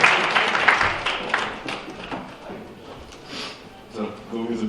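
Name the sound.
audience applause welcoming a speaker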